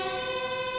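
Ambulance siren in the police video game Police Force 2, a loud, steady, close wail with dense harmonics, heard on its own without speech.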